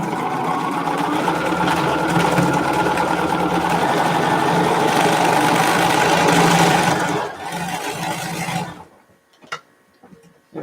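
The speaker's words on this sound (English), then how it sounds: "And then I need to sew it in." A sewing machine stitches elastic into a fabric face mask, running in a steady, loud, continuous whir for about seven seconds before slowing and stopping, followed by a few faint clicks.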